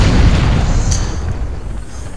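A bomb blast in the video game Overlord, a loud low rumbling boom that fills the start and slowly decays, with a brief crackle partway through.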